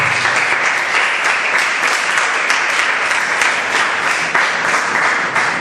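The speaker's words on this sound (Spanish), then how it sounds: "Dale un aplauso a Jesús." A church congregation at a Spanish-language service applauds, with dense, sustained clapping from many hands that stays loud and steady throughout and has no speech over it.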